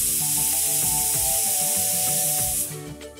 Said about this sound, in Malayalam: കുക്കറിൻ്റെ മൂടിയ വെച്ച് അടച്ച് 2 വിസിലടിക്കാം.